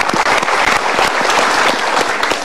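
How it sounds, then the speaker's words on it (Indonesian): Studio audience at a televised motivational talk show breaking into applause, close and loud with distinct individual claps scattered through the dense burst. "Kita berikan tepuk tangan lagi"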